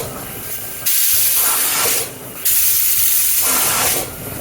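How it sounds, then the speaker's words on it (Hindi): Loud, steady hissing of steam in long bursts from a pressure cooker whistle while cooking peas for chole over a medium-high flame, stopping and starting again a few times, with no talking over it. "तीन विसल आ गई है।"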